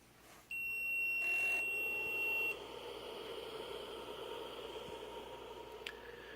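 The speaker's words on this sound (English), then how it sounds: "you're going to hear the beeping sound of the memory card" A Sega Dreamcast console's memory card gives a single sustained electronic beep for about two seconds at startup, then a steady machine whir and hum continue, with a faint click near the end.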